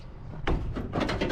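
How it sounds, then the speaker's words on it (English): A cut-apart door on a Toyota Land Cruiser 105 series is moved, giving metallic rattling and scraping bursts that start abruptly and repeat in quick pulses, close and fairly loud. "That's the sound of a cut door."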